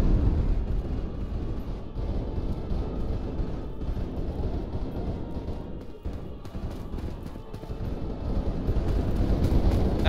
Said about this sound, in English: That sounds like a lot of gunfire.